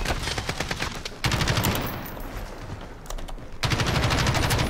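Gunfire in a first-person shooter video game: rapid automatic bursts of shots, loud and dense, with a short pause between two long volleys.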